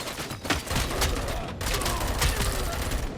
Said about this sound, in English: Oh, a different guy got a machine gun?